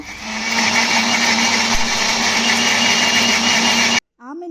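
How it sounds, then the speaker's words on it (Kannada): A kitchen mixer grinder whirring loudly and steadily as it grinds soaked tamarind for tomato rasam, then stopping abruptly, after which a voice speaks briefly. "ಇದನ್ನು ಮಿಕ್ಸಿಗೆ ಹಾಕಿ ನೈಸಾಗಿ ರುಬ್ಕೊಂಡು ಬರೋಣ"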